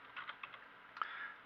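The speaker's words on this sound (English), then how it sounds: "So I'm just typing start X" Quiet, quick keystrokes clatter on a computer keyboard, a short burst of soft clicks followed by a slightly firmer key press near the end, heard alone without talk.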